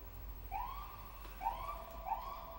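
A siren wails outside in the distance, faint rising and falling tones repeating several times over a low rumble indoors, with no talking during it.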